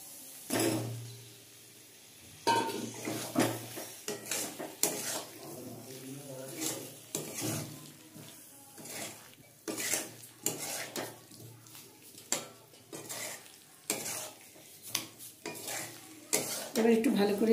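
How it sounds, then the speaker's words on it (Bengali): Potatoes are stirred into cooked-down masala in a metal pan, a spoon scraping and knocking against the pan in irregular strokes over a low sizzle of frying, close and fairly loud. "এবার একটু ভালো করে নেড়েচেড়ে নিয়েছি"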